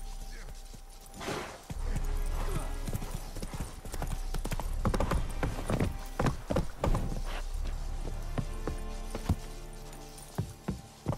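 Hooves of a horse clop in quick, uneven beats on the ground while riding in The Witcher 3 video game, close and prominent over a low game rumble, with a short snort or whinny near the start.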